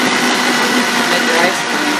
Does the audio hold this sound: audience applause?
no